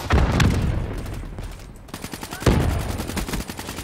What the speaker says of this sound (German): LOL, wer schießt?